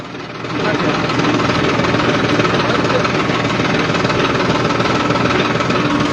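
A tractor engine runs steadily up close during a farmers' tractor march through a town market in Gharaunda, a loud continuous rumble with knocking texture that holds constant throughout.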